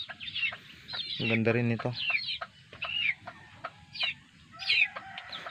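Pet chickens, several sibling birds including a gold overhatch with green legs, cluck repeatedly and close by, with one loud drawn-out squawk near the middle, while someone talks over them now and then.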